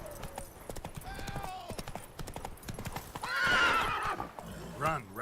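Roach the horse gallops in The Witcher 3, with quick clip-clop hoofbeats running throughout and a whinny partway through, close and clear.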